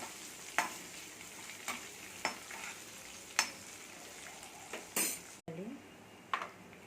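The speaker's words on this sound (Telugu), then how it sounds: "వెల్లుల్లితో బాగా ఫ్రై అయ్యింది" Garlic fries quietly in a pan with curry leaves and chilli, under a soft steady sizzle. A spoon scrapes the pan in irregular strokes about once a second, with one louder clatter near the end.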